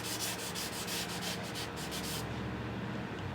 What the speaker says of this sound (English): the main thing here is to sand it down to where it opens up the grain in the stock